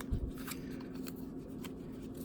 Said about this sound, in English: tarot cards. Let me shuffle these to begin with.